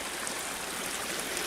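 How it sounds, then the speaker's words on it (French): A small spring-fed stream trickles steadily toward a clearing below its source, a continuous close broadband rush of flowing water with no voices. "ça fait vraiment le petit ruisseau là-bas qui va dans la clairière en dessous"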